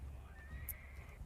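A horse whinnies in the Conan Exiles game, one drawn-out neigh rising and holding for about a second over a low ambient rumble, with faint hoof clatter.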